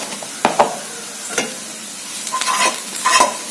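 Masala with onion and turmeric is sautéed in a pan for chole: a close, dry sizzle with several sharp spatula strokes and scrapes, and no voices.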